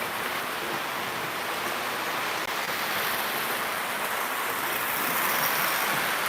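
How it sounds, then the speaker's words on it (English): A model Budd rail car runs on a layout, giving a steady, fairly loud broadband rushing and rolling noise that holds throughout with no talking. "Look at that little bud car doing all the hard work."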